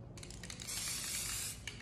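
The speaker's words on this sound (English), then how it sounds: "I'll do a light spray of gold." Light spray of gold paint from an aerosol can over a poured acrylic bloom artwork, a close, soft hiss in a few short bursts that swells into one longer spray.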